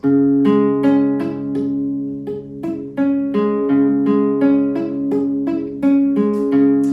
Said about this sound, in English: we have some dead, plunky, muted sounding strings, these two.